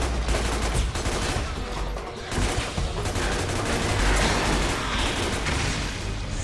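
Metal Gear Solid 4 battle: sustained heavy gunfire mixed with missile blasts and low booms, dense and continuous, loud and close.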